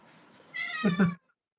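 An angry house cat lets out a short, loud, drawn-out meow that breaks into two harsh pulses, close by, with faint room noise before it.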